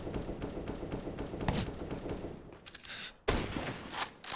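Scout sniper rifle duel in CS:GO on Dust2 during an ESL Pro League match: dense bursts of gunfire and sharp shots crackle across the clip, with a brief lull before a loud crack near the end.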